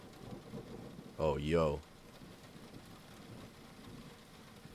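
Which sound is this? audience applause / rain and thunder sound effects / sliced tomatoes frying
rain and thunder sound effects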